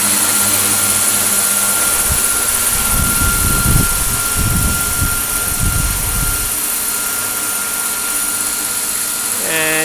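A radio-controlled Air Crane helicopter hovering under a Wookong flight controller gives a steady high whine and motor drone, with rumbling gusts of rotor wash swelling in the middle before settling back to a constant hum.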